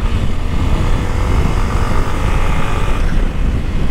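A Honda XRE 300 motorcycle engine runs steadily with a continuous low, rough rumble, loud and close, with no talk over it.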